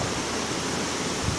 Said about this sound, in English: the water would come in there as I pull up on the handle